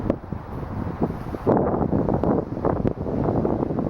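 Gusty wind buffets the microphone outdoors in a front yard, a rough low rushing that swells louder midway and stays steady to the end.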